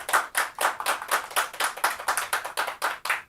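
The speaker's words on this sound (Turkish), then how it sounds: "Bu alkış, bu alkışlar hepinize sevgili izleyiciler" Applause from Tele1 staff, a small group clapping steadily and close by, about a dozen distinct claps in a quick, slightly uneven rhythm with no voices.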